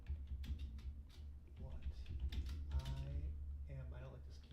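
Someone types on a computer keyboard in bursts of close, quick key clicks while people talk over it.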